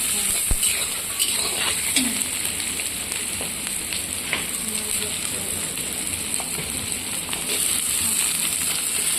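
Onions and tomatoes frying in oil in a pan, a steady bright sizzle throughout with occasional clinks and stirring scrapes of a utensil against the pan.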